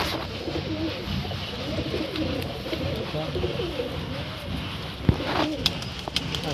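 Pigeons coo repeatedly in soft, rolling calls at close range, several birds overlapping in a continuous murmur, with a few sharper clicks and flutters near the end and no clear speech.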